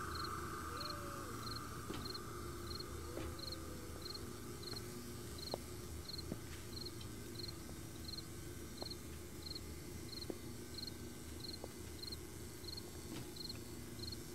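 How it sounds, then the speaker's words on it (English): Crickets chirp at night in the survival video game 7 Days To Die, with steady, evenly spaced high chirps repeating throughout over a faint, constant ambient hiss, with no talking. "Those crickets are going to get irritating after"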